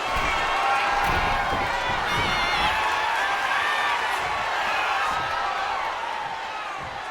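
Loud, dense roar of a wrestling arena crowd during a brutal WWE SmackDown ambulance match, sustained cheering and shouting filling the space throughout, easing slightly toward the end.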